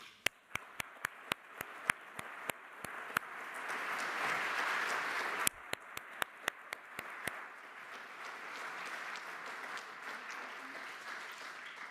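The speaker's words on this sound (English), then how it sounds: "So please join me in applauding our sponsors and friends from Carlsberg." An audience at a scientific prize ceremony for the Louis Pasteur bicentenary applauds warmly, a sustained wash of clapping that swells and settles, with sharp individual claps standing out near the start.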